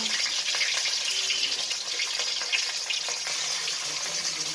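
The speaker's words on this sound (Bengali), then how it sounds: "এরকম হালকা হালকা করে ভেজে নেব" Rohu fish pieces fry lightly in oil with a steady, loud, even sizzle that holds throughout, with no voices.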